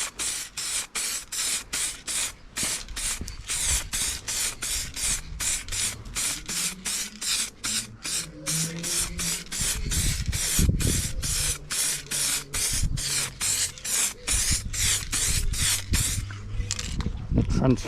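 Rapid, rhythmic bursts of an aerosol spray can coating Nissan Micra K11 valve covers outdoors in the shade, dozens of short hissing pulses with a rattling can and someone talking over parts of it.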